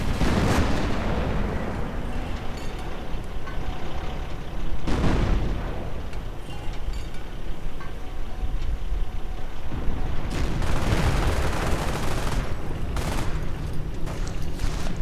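Hummel self-propelled artillery fires in a World War II strategy game, booming blasts landing at irregular intervals over a constant rumbling battlefield din, with a heavy burst early on and a dense cluster of explosions later.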